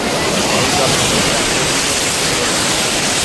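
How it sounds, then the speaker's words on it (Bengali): Water splashing and washing against people standing at the water's edge, a loud, steady broadband rush of surf that fills the whole moment without pause. "এই যে জলের ঝাপটা মারছে।"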